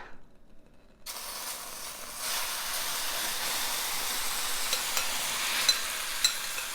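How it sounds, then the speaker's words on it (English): Hash browns sizzle in a large skillet after a second of near silence, then a constant crackling fry with small scraping stirs and a few sharper ticks near the end. "It says to cook this in a large skillet, stirring frequently for 10 to 15 minutes."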